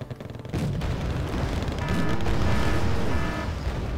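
Weapon fire from a Lynx helicopter attacking enemy troops in the Wargame: Red Dragon strategy game: a sudden loud boom followed by a dense, sustained roar of overlapping blasts and rumbling impacts.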